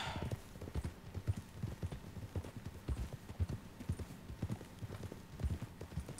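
Horse hooves clip-clop at a steady walking rhythm in Red Dead Redemption 2, a close, even clatter of beats that carries on alone through the stretch with no talking over it.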